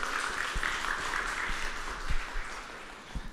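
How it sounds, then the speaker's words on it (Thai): Seminar audience in a hall applauding to welcome a speaker at a constitutional talk event, an even, moderately quiet patter of many hands that carries on steadily with a few soft thumps. "ขอเสียงปรบมือต้อนรับครับ"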